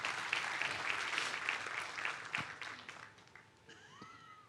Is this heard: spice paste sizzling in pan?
no